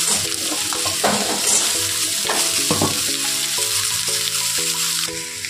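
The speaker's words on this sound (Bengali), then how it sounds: "আমগুলো আমি দিয়ে দিলাম।" Mango pieces go into a pan of frying vegetables for Bengali aamer ambol and are stirred, a loud, close, continuous sizzle with repeated scraping and clinking of the spatula against the pan, no voices.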